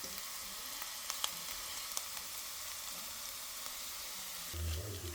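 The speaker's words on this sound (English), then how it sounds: "I'll saute my onions." Onions sauteing in hot oil left from frying sardines, a continuous bright sizzle with scattered pops, fairly close and steady, with a brief low clatter near the end.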